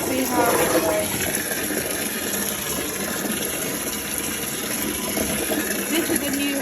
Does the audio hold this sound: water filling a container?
yes